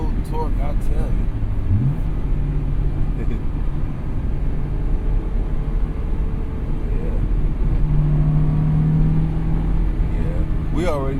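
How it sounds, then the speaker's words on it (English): A Honda S2000 AP1 heard from the cabin with a steady engine drone and tire and road noise, the revs rising briefly in places, while a person talks over it. "I know I gotta rev it all the way up there to get to the power band."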